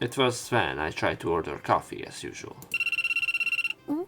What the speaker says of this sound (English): The sound of a ringing phone echoed throughout the store.